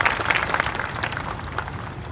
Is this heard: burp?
no